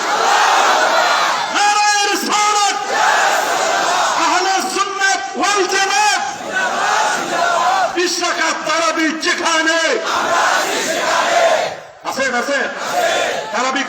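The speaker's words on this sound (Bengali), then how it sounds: "স্লোগানটা একটু জোরে দিতে হবে নারায় তাকবীর নারায় তাকবীর" A large crowd chants the Nara-e-Takbir slogan at a religious gathering, loud and rhythmic, with a leader's call and a massed roaring response repeating several times.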